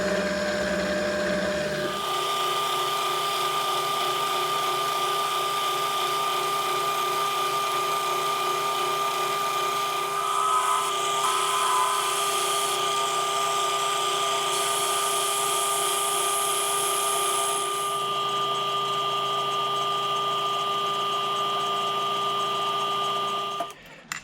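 A lathe drills an 8mm hole into a metal tailstock, giving a steady, continuous mechanical whine that holds for over twenty seconds before cutting off, with no talk.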